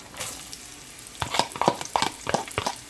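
Onions go into frying bacon in a pan, raising a soft crackle at first and then a loud stirred sizzle with rhythmic scraping bursts.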